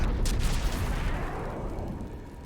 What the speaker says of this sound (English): I mean, it's a nice fireworks show.